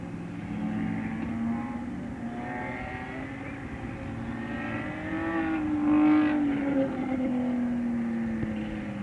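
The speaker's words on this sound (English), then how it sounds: "Cars are picking up speed" Race cars roar around an oval track during a July 4th enduro as rain eases 173 laps in, with engine tones rising and sweeping past in a continuous loud drone, swelling near the middle.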